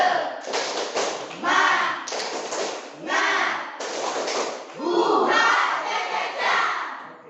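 A class of children performs the tepuk semangat clapping chant, bursts of rhythmic group clapping alternating with loud shouted chant phrases in a repeating pattern, close and lively.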